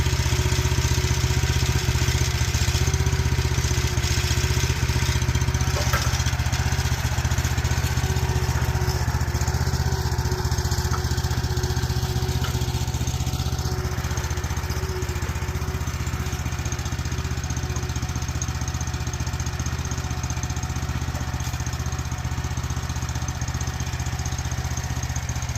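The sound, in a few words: gas-powered post hole digger engine running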